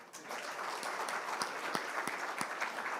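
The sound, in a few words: audience applause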